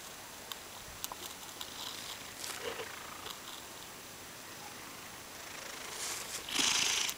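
A cat purrs up close in a soft, continuous rumbling rhythm, fairly quiet, with a few small ticks and a brief louder rustle near the end.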